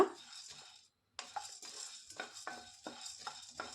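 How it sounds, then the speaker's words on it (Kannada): Roasted gram being dry-roasted lightly in a pan for homemade coconut chutney powder, with quiet, repeated scraping stir strokes and light clinks against the pan and no voices. "ನೆಕ್ಸ್ಟ್ ನಾನಿಲ್ಲಿ ಕಡಲೆ ಪಪ್ಪು ಅಂದರೆ ಹುರಿಗಡಲೆಯನ್ನು ಹಾಕ್ಕೊತಾ ಇದ್ದೀನಿ ಇದು ಕೂಡ ಲೈಟಾಗಿ ರೋಸ್ಟ್ ಮಾಡಿಕೊಂಡ್ರೆ ಸಾಕು"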